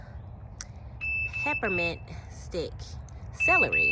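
A high electronic home alarm system beeps in two sustained bursts indoors among potted garden plants, while a person keeps talking over it.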